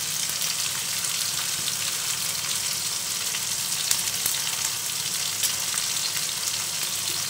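Shrimp fry steadily in hot oil with onion, garlic and green chili, a dense, even sizzle that holds loud and close throughout with no one talking.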